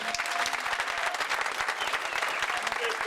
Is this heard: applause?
yes